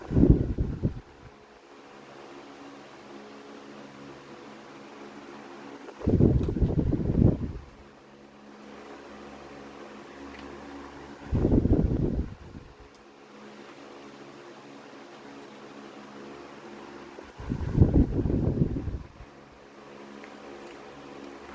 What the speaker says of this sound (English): started up on high with the oscillation at full 75-degree arc